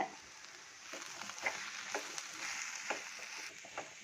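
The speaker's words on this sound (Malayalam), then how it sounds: "പൊടി ഐറ്റങ്ങളും ഉള്ളിയും ഒന്ന് വഴട്ടിയെടുക്കട്ടെ" Spice powders, including pepper, masala and fenugreek, sauté with onion in a pan for beef curry, sizzling quietly and steadily with soft stirring scrapes at irregular intervals.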